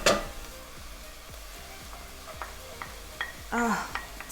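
Onion and garlic frying in oil: a soft crackling sizzle with a spoon tapping and scraping the pan in a rhythmic series of light knocks, no talking.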